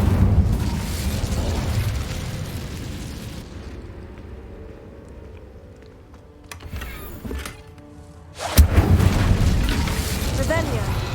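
Incendio fire spell cast in Hogwarts Legacy, a loud burst of rushing flame and boom that fades, then a second strong burst near the end, over a low game ambience.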